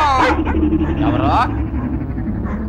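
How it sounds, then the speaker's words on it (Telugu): Dogs yip and whimper excitedly in a film scene, loud and close, with a voice talking over them through most of the stretch. "అటు టెలిఫోన్ ఇటు కుక్కలు ఒకదానికోటి పోటీ పడి అరుస్తున్నాయి"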